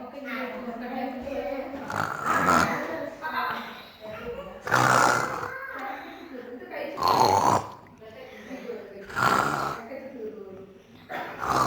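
A father snoring indoors: loud, rough, rumbling snores repeat in slow bursts about every two seconds, close by, with no talk over them.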